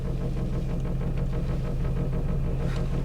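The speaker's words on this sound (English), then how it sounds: "That's the car wash." Steady machine rumble of an automatic car wash running with a Hyundai Tiburon parked inside in neutral, a continuous low drone with faint rhythmic hiss and spray pulses, no talking.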